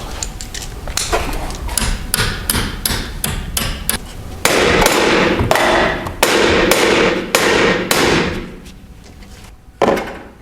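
Hammer pounding on Jeep XJ (1984-2001 Cherokee) front fender metal to straighten it, a rapid series of sharp metallic blows, some clustered quickly and others spaced out, loud and close.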